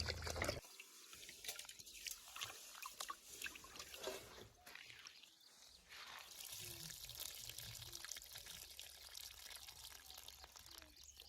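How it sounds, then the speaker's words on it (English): Rice is washed with water in a bowl, giving faint trickling, pouring and sloshing close by, soft and continuous with brief splashy swirls throughout. "Now I'm going to add some water and wash the rice."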